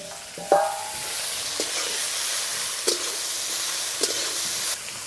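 Ridge gourd peels fry in a pan with a steady broadband sizzle, punctuated by a few sharp clinks and scrapes of stirring, close and alone with no talk.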